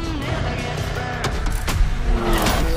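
Lamborghini engine in the racing game The Crew Motorfest, a loud, close car roar with revving surges and sharp transients, heard throughout.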